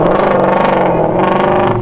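The Ford Mustang Shelby GT350R's Voodoo V8 revs in Forza Horizon 5 with a loud, raspy, continuous engine note that holds steady for about two seconds, close and alone.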